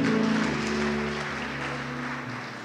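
Church congregation applauding during a worship service, a steady wash of clapping over a sustained low organ or keyboard tone, gradually fading over a few seconds.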